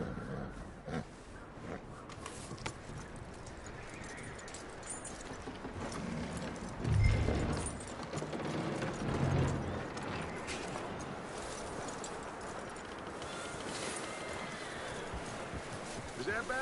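A horse's hooves clip-clop in Red Dead Redemption, a moderate rhythmic trot set against outdoor game ambience, with some low thumps partway through.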